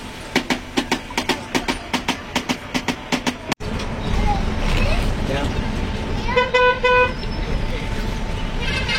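Train passing close by with a rapid run of rhythmic clattering bursts, a sharp cut, then a rushing roar topped by a sustained horn blast near the end, with people talking nearby.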